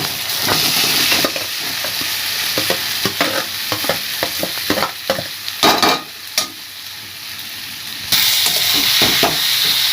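Chunks of elephant foot yam and potato stirred into a sizzling spice paste in a pan, with a continuous loud fry hiss and irregular scraping, clattering spoon strokes close by.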